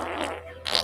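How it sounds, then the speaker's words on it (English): A fart rumbles low and steady for nearly a second, ending in a brief louder burst, with no talk over it. "I farted."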